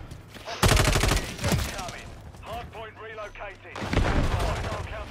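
Video game gunfire comes in two loud, close bursts of rapid automatic shots, with excited voices talking between and over them.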